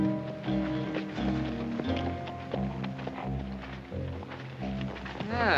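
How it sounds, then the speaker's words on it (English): Horse hooves clip-clop in a steady rhythm close by, with music playing underneath, in a 1959 Western TV scene. "that's what I call a horse"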